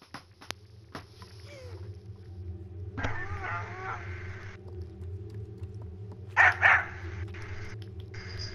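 A dog barks a few times in the video game Little Nightmares, short yips heard briefly mid-clip over a steady low droning game soundtrack, with a sharper burst near the end.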